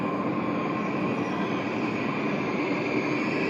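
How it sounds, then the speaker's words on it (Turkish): A train arriving at a station rumbles steadily close by in a loud, unbroken roar of wheels and engine, with no voices. "Trenimiz geldi."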